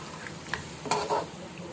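Chicken for pulao biryani cooks in a pan with a low background sizzle, punctuated by a couple of brief stirring scrapes near the middle.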